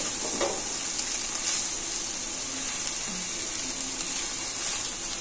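Spring pasta is gently stirred in a hot pan, giving a steady soft sizzle with faint scraping and stirring sounds throughout.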